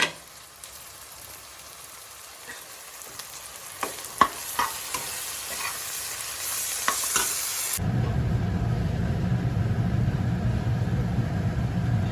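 Chicken is sautéed with fried onions and spices in a pan on a gas stove, with a steady sizzle and a run of sharp spatula clicks and scrapes. Partway through, the sound cuts abruptly to a broad low rumbling hiss.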